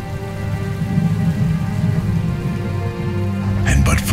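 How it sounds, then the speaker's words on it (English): Heavy rain pours in steadily on a symphonic metal album track, a dense wash of falling water under sustained low orchestral tones, swelling slightly toward a sharp crackling burst at the end. "And then a great rain set in."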